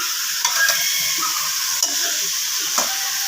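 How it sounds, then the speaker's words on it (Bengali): Spices, pumpkin and leafy greens sizzle steadily in a frying pan while a spoon stirs and scrapes the pan a few times, producing soft knocks over the constant hiss of frying. "ভালো করে নেড়ে চেড়ে মশলাগুলো মিশিয়ে নিলাম"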